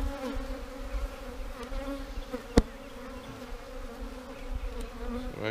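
A dense, steady hum of many agitated honeybees buzzing close by over soft comb, constant and droning, with one sharp click partway through.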